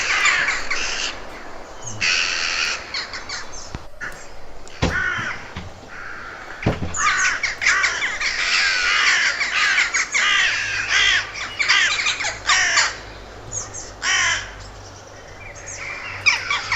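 Crows cawing in an urban setting, several harsh repeated calls at moderate distance, irregular and overlapping, with faint chirps and a steady low background hum throughout.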